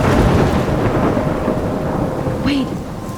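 Heavy rain roars without a break in a thunderstorm from the video game Life is Strange, with deep rumbling thunder underneath, loud and immersive.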